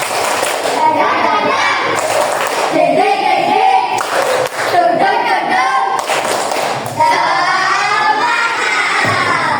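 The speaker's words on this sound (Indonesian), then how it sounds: "Sebelumnya tepuk semangat dulu, coba." A classroom group does the rhythmic 'tepuk semangat' spirit clap. Sharp claps land in a patterned sequence while many voices chant loudly along with them, close up and filling the room.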